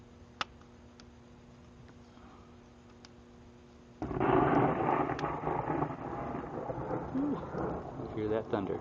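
Thunder rolls outdoors beside a BBQ pit fire. After a few quiet seconds a broad, deep rumble swells up suddenly and lingers, moderately loud and distant.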